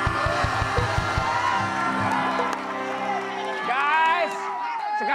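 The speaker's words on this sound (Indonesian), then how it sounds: "Tepuk tangan untuk Abang Sambar Gledek." A studio crowd cheers and whoops for Abang Sambar Gledek during a sahur variety show taping with a host at Golden Signs, loud and continuous, with voices and music layered over the noise.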